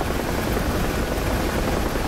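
A helicopter gunship in the DCS combat flight game gives a loud, steady rotor and engine roar that fills the whole short stretch without a break or any speech.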